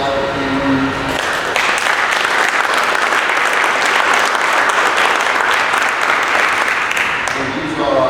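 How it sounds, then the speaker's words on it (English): Luncheon audience at a chamber of commerce event applauding a scholarship winner, loud continuous clapping from a crowd that swells in after a brief lead-in and fades near the end. "So, a lot of applause for Cameron."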